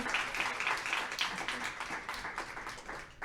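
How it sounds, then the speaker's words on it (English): Audience applause at a conference afternoon session in Canada, a steady patter of clapping at moderate level lasting a few seconds with no one speaking. "One more round of applause."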